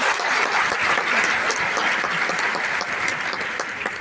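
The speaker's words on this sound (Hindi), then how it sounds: "एक बार जोरदार तालियां हमारी मैडम के लिए।" A large audience breaks into loud, sustained applause at a gathering in India, a dense wash of clapping holding steady for the whole stretch and easing slightly near the end.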